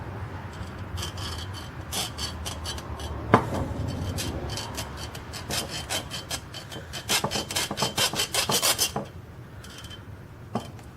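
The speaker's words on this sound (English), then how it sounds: "Actually, I think I'm going to use the hacksaw." Hacksaw cuts through aluminum for a gauntlet finger part, a close series of rasping strokes that quickens into fast, regular back-and-forth scraping before stopping.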